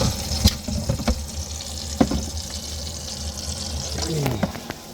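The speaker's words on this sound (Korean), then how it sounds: "이제 물 새는 것입니다." Water runs from a leaking kitchen sink faucet at its connection, a steady hissing trickle close by with occasional clicks and knocks throughout.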